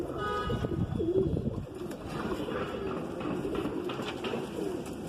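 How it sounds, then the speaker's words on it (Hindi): Soft, low cooing of Madrasi breed pigeons, several birds overlapping continuously, with rustling and faint chirps nearby. "बहुत ही ज़्यादा मचल रहा है कबूतर"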